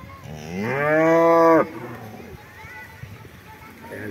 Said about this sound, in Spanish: El toro, la vaca.